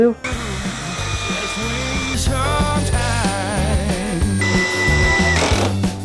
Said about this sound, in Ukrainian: На максимальному 20-му режимі сверління.